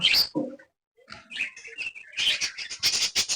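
Young budgerigar chicks in a home aviary setup give bursts of high, thin chirps and twitters at close range, with a brief pause before the calls resume more densely.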